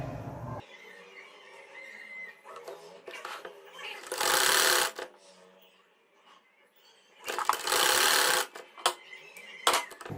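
A sewing machine stitches a baby frock in two short loud bursts separated by quieter handling noise, with a voice speaking between the runs.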